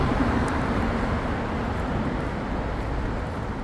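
Steady, loud roar of car traffic passing overhead beneath a road bridge, a dense continuous rumble with no breaks and no speech.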